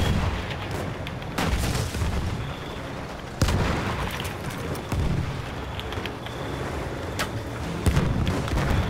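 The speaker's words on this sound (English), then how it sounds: "Wait for the enemy artillery barrage to stop firing." Enemy artillery barrage in the video game Battlefield 1: repeated heavy booms and gunfire crashes over a dense battle din, with sharp loud impacts at irregular intervals.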